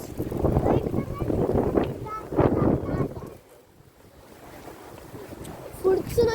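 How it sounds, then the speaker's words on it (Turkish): Wind gusts buffet the microphone in strong rumbling bursts, easing into a quieter stretch before picking up again, with voices faintly underneath. "Normal rüzgar esiyor."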